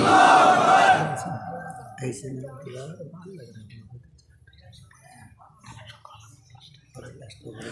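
A large crowd at an Islamic sermon (waz) shouts the takbir "Allahu Akbar" in unison, a loud massed roar in the opening second that quickly fades. A man then continues preaching alone in a reverberant space.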